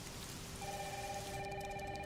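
Heavy rain falls as a steady, dense hiss that fills the background, and partway through a thin electronic telephone tone rises over it and holds.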